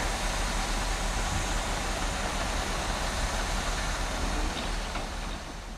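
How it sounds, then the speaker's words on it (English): A car-carrying freight train rolls past near Didcot, a loud, steady roar of wheels and wagons holding constant before easing slightly at the end. "my guess is that this is the car train"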